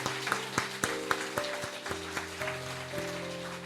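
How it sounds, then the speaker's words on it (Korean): A church congregation applauds at a founding thanksgiving service. Rhythmic clapping is mixed with sustained organ or keyboard chords, moderately loud, and continues through the whole stretch. "우리 다 같이 박수 한번 쳐주세요"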